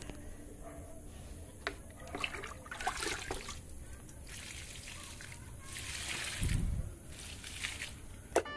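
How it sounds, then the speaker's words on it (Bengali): Water poured onto potted plants, including a rose, in hot weather; intermittent trickling and splashing in bursts, fairly faint, with a voice heard at times. "আমি এখন প্রথমে এই গাছগুলোতে জল দিয়ে দেবো চটপট করে।"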